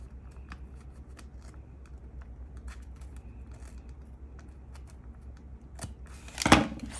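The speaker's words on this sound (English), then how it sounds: "I've got to trim the washi stuff right there, which is easy to do." Scissors trim washi tape inside a paper planner, faint rustling and small snips building to a louder, close cut near the end, with no voices.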